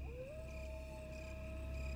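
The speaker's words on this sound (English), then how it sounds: "Dogs were howling again in the distance" Dogs howling in the distance as a radio-play effect, with one long, steady howl rising and then holding its pitch over a low, constant background rumble, faint and far off.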